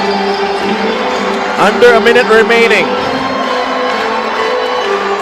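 A basketball arena crowd roars in a short swell during the final minute of an MPBL game between Bacolod and Pampanga, with loud cheering and whoops rising over a commentator's voice before settling back under continuous talk.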